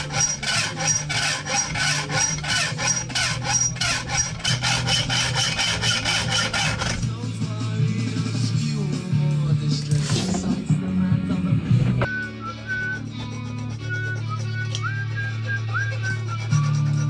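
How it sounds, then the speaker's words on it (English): A hacksaw or Dremel cuts slots in a plastic fly screen interceptor 650: rapid rhythmic rasping saw strokes up close, then a whining rotary tool with shifting pitch, loud and steady with no talking. "I'm going to get a hacksaw or a Dremel and just cut some slots in there"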